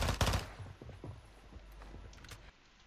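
An MP7 fires in a first-person shooter, starting with a loud cluster of sharp shots and followed by a rapid run of fainter reports and mechanical clatter. Another shot cuts in at the very end.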